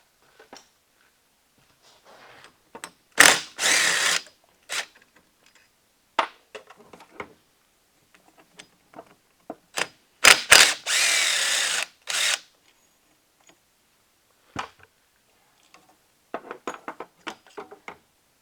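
Power tool bursts as two 10mm bolts are backed out of the wiper motor on a Chevy Malibu wiper transmission assembly, two long whirring runs separated by scattered clicks and handling clatter, fairly close with no talk.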